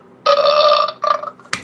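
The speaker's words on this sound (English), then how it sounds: "Nope, it's a burp." A burp from a sound effect button, loud and close, one long rasping belch followed by a shorter second burst and a sharp click at the end.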